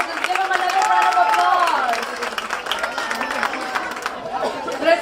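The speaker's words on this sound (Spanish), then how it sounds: "Great job, little bears. Let's give them another round of" Audience applause fills a children's center 50th anniversary celebration, a steady wash of clapping mixed with crowd chatter and voices, holding for several seconds before easing off slightly near the end.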